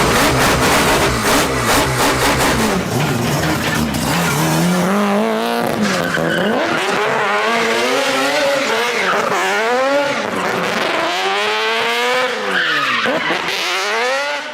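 A Supra fitted with a four-rotor rotary engine runs loud and steady at close range, its revs rising and falling in sweeping swells, with no talk over it.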